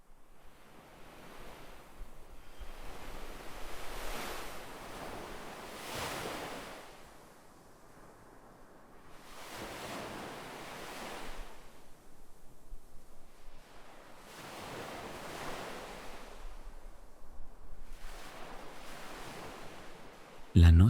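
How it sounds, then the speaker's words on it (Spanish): Ocean waves break on a beach at night, each surge swelling and then washing away in a slow, regular rhythm of soft, rushing surf. "El murmullo del oleaje se entremezcla con los sonidos nocturnos que nos rodean, creando una melodía relajante y envolvente."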